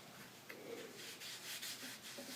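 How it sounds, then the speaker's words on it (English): Faint dry rubbing strokes as metallic-finished cardboard is polished by hand, a few short scuffing passes close by, quiet and uneven with no voices. "if you wait just a few seconds, you can polish it"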